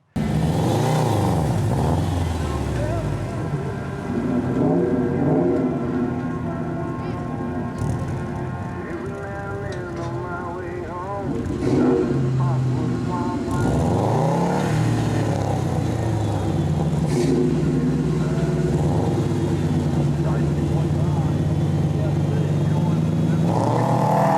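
A 2000 Camaro Z28 races at a drag strip, its engine note roaring and rising through gears in long sustained runs, heard loud and mostly alone.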